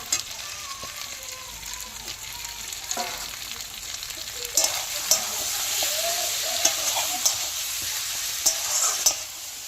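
Oil poured into a pan of mutton kosha masala with potatoes, giving a steady close sizzle with scattered sharp spatters and occasional spoon scrapes that grow louder toward the end.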